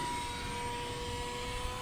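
A small beginner RC airplane flies with its electric motor whining steadily, a constant buzzing drone with no talking.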